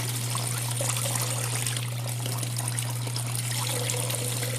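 Water trickles and washes steadily over gold concentrate on a Miller table while a brush moves the lighter material aside, outdoors in Uwharrie National Forest, a constant close running flow under a low steady hum.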